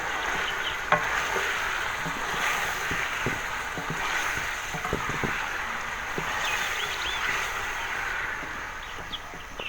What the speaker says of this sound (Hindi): इनको भी अच्छी तरह मिक्स कर लेंगे।